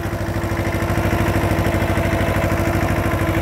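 A tractor engine pulling a tractor-drawn spray tank through a sugarcane field, a loud, close diesel chug with an even, rapid pulse and steady clatter throughout.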